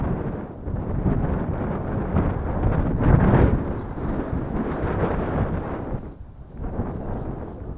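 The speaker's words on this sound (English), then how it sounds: "Windy again." Steady wind buffeting an outdoor microphone near a duck pond, a loud continuous rumbling roar with gusts swelling around the middle and a brief lull near the end.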